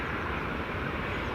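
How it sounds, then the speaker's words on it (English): KLM Boeing 737 lining up on runway 24 at Edinburgh Airport, a steady broad jet-engine roar from a distance, continuous and moderately loud through the short stretch, with no voices. "KLM 737 just lining up now as well"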